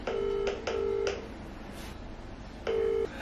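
A telephone call ringing out, with repeated steady electronic ringback tones in short bursts separated by pauses, fairly clear and alone.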